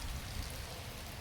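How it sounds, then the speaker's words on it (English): Steady rain falls outside an open doorway, a dense, even hiss with low rumble, continuous and fairly close, no voices. "Oh, it's starting to rain in my house now"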